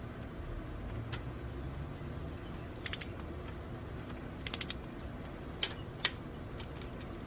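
Several sharp clicks from a torque wrench tightening T30 bolts to 10 Nm on a Yamaha Raptor 660 crankcase, coming in small clusters and single clicks over a low hum, close by and without speech.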